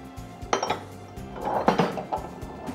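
A spoon clinks against a bowl as lemon juice and cornstarch are stirred together, giving light, irregular taps and scrapes at close range.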